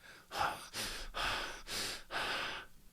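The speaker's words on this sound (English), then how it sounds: "you will notice that the breathing is not harmonic" Heavy, agitated breathing with rough, animal-like breaths, about five loud, close, harsh inhale and exhale bursts in a row, each split by a short pause, heard alone.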